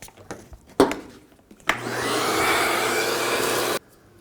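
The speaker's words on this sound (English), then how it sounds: "I'm going to vacuum up this debris so it doesn't fall when I lift up the intake." A vacuum cleaner sucking up debris in the engine bay of a 2004–2010 Toyota Highlander during spark plug replacement, a few clicks and knocks followed by a steady close roaring whoosh for about two seconds, then stopping abruptly.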